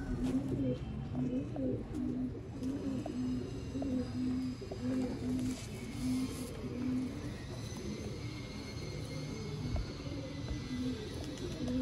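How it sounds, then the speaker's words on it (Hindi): Pigeons, sebe-wale Chinese fancy birds kept by a hobbyist, coo nearby in a steady repeating rhythm of low throaty calls, a continuous chorus lasting the whole stretch. "ये देखें जी दोस्तों, शौक करें, ये सेबे वाले चीने कबूतर।"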